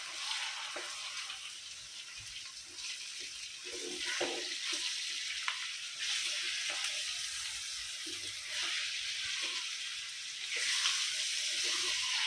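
Chicken pieces for pickle fry in hot oil, giving a continuous close hiss and sizzle with scattered small crackles and pops throughout, fairly quiet and with no talking.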